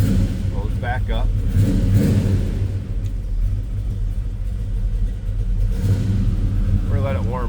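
A 1970 Chevrolet Chevelle hardtop with a 383 stroker engine and cowl induction hood starts cold, settling into a loud, steady rumbling idle with some revving throughout, close to the car.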